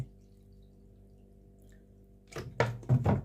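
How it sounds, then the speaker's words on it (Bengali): Water pours into a container for a blender drink: a low, quiet hum at first, then a few loud splashing bursts of liquid near the end. "এই পানি নিতেছি"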